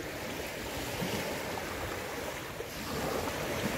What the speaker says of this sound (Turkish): Birlikte dinleyelim denizin sesini.